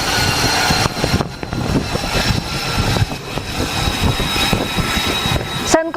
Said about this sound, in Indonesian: CENTCOM merilis persiapan jet tempur siluman F-35B yang akan lepas landas di atas kapal USS Boxer di Laut Arab.